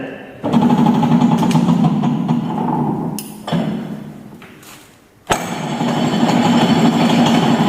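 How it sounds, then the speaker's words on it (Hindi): A metal lathe turns a job held between centres with a catch plate and dog, running at 250 rpm; its loud, steady mechanical drone briefly drops around the middle before resuming at full level. "मशीन को 250 आरपीएम पर सेट किए और सेट करने के बाद जॉब को कुछ देर के लिए चलने दें"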